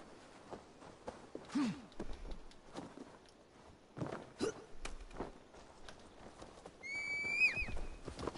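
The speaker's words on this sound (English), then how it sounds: "Oh, hello, horsey." Horse in the video game Assassin's Creed Valhalla, with clip-clopping hooves and snorts, then a clear, loud whinny rising and falling near the end.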